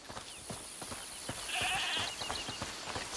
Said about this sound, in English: Listen, is that the goat he talked about?